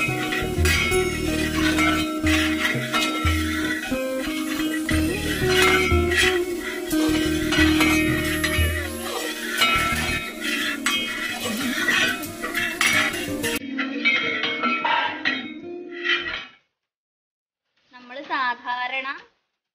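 Sliced nendran banana and apple are sautéed in ghee in a pan for payasam, with a spoon clinking and scraping steadily against the metal while a person talks over it.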